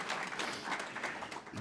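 Audience applause at the closing ceremony of a 115th anniversary celebration, a steady dense patter of many hands clapping together, fairly close and continuous throughout.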